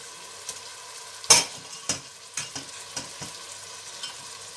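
Boiled mutton gets stir-fried in a pot, a faint sizzle broken by a run of distinct spoon scrapes and knocks, one louder clank near the start, then fading strokes at a steady pace.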